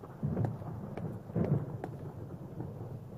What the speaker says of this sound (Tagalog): Meron pa parating na bagyo, ha?